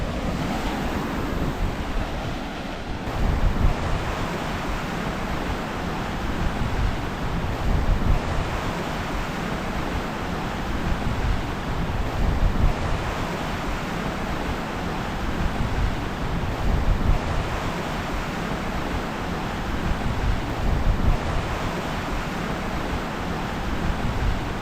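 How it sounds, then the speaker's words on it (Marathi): Big sea waves at Bhandarpule beach roll in with a steady roar of surf, swelling every few seconds, mixed with wind buffeting the microphone and no voices. "मोठी मोठी लाटा, मोठी आहे ये बघ राडा."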